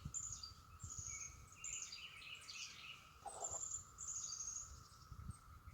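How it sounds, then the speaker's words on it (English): Cicadas buzz outdoors near a roughly six-foot bush, a steady high insect drone with repeated chirping pulses layered over faint background noise, continuing without pause. "That is those cicadas."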